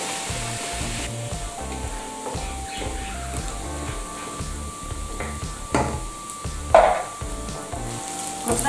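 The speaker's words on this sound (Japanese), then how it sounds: "で軽く炒めてちょっとワイン入れようかと思います。" Chicken curry ingredients stir-fried in a pan with a splash of wine, giving a steady sizzle broken by scraping stirs and a few sharp clinks, close up and with no talking.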